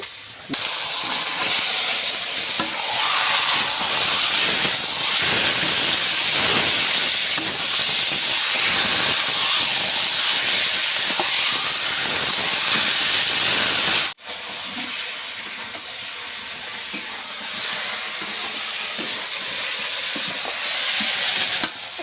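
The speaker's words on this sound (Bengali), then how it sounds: "তেল মশলাটা হয়ে গেছে এবার মাংসটা দিয়ে দিচ্ছি" Meat dropped into hot oil and spice paste in a pan, giving a loud, steady close-up sizzle and hiss with stirring clatter throughout; the sizzle drops a little partway through, then carries on.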